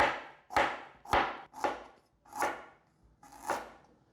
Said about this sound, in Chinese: 把姜切成姜丝